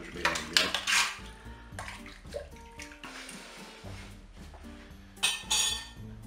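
A spoon scrapes and clinks against the metal inner pot of a Cookeo multicooker while a ham mixture is stirred, with irregular close knocks and scraping strokes, some louder bursts near the start and end, and no talking.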